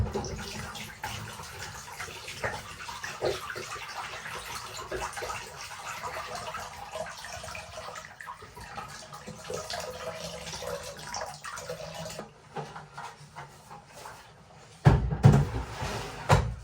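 Water drips and trickles faintly for a while, then a louder splashing gush near the end as water is emptied from an appliance filter, with small clunks.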